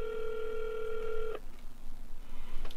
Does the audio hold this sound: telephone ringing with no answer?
yes